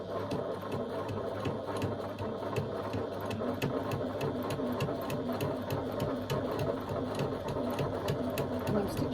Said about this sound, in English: And I'm stitching all the way across.